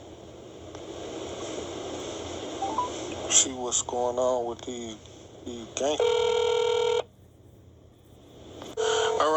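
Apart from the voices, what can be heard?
telephone dialing tones while calling back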